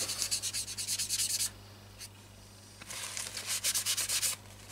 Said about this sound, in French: pas hésiter à reprendre un peu encore ponçage derrière avant la peinture ultime